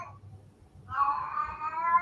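A house cat meows twice, the first call short and quiet, then a longer, louder drawn-out meow close to the microphone, with low room rumble beneath.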